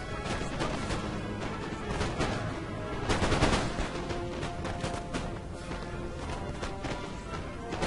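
Musket volleys in a Napoleon: Total War battle between foot guard and line infantry sound as dense, overlapping crackles of gunfire with thuds and clatter, a heavier burst rising midway, all continuous and fairly loud.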